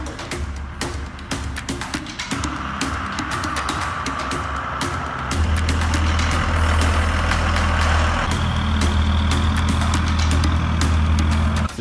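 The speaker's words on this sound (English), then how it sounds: "Here we go, driving down the freeway." A converted school bus cruising down a freeway, its heavy engine droning steadily with low rumble and road noise, loud and continuous, shifting pitch as it gains speed.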